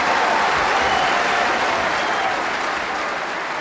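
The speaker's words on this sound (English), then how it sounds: "as the capacity crowd go completely mad" A capacity crowd applauds at a snooker world final as Joe Johnson defeats Steve Davis 18 frames to 12. Loud, continuous, roaring applause fills the entire stretch without letting up, with no talking.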